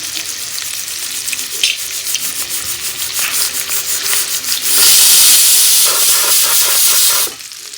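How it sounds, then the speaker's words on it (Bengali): A pressure cooker boiling peanuts lets off a loud hiss of escaping steam, rising into a sustained full blast for a couple of seconds before cutting off abruptly, with sizzling and clattering heard around it. "এদিকে দেখুন প্রেশার কুকারে সিটি দিচ্ছে"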